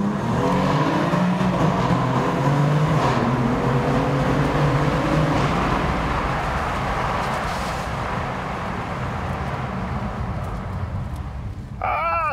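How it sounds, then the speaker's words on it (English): A turbocharged BMW M4 engine drones and roars inside a tunnel, heard loud and continuous through an open window, with rising tones as it accelerates before the sound gradually settles. "Do you want to hear what the new M4 sounds like with its turbocharged engine?"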